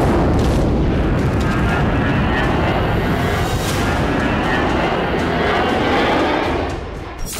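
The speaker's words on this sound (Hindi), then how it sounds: "सीज़फायर के बीच ही 2 दिन पहले गाजा में आईडीएफ के फाइटर जेट भी दिखे" An IDF fighter jet flies over Gaza with a loud, continuous broadband roar that stays intense for several seconds and eases slightly near the end.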